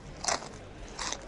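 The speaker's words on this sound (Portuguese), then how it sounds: "Que coisa mais feia de se dizer que eu mastigo alto." Loud, close crunching bites of pretzels, two distinct crunchy bursts with a quiet pause between them, heard alone with no talking.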